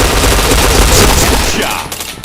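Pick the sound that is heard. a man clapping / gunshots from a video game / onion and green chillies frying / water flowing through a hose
gunshots from a video game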